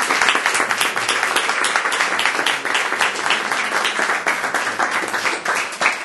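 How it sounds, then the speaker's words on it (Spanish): Steady, dense applause from an audience at a book presentation for a novel keeps going without a break for several seconds, with no talking over it. "Pido un aplauso para la novela."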